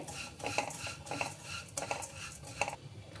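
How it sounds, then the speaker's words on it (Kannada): Vermicelli being stirred in a pan over a medium flame, the utensil scraping and clinking against the metal in repeated bursts, with a faint sizzle of frying underneath and no voices. "ಮೀಡಿಯಮ್ ಫ್ಲೇಮಲ್ಲಿ ಇಟ್ಕೊಂಡು ಕೈ ಬಿಡದೆ ಈ ಥರ ಆಡಿಸ್ತಾ ಇರಿ"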